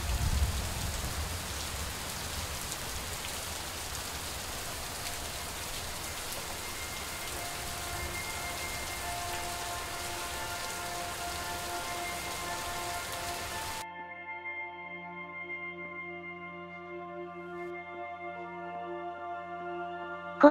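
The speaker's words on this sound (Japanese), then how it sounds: "雨の音って、なぜだか心が安らぐよね。" Rain falls steadily in the video game Superliminal, a dense even hiss for most of the time, then cuts out abruptly to leave soft sustained music tones.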